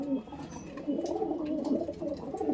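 Andhra Kaldom pigeons cooing in a low, continuous warbling murmur, several birds overlapping at moderate distance with no clear breaks.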